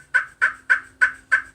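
Five evenly spaced soft yelps from a glass-over-slate turkey call, each a short raspy chirp with a quick fade, fairly quiet and alone.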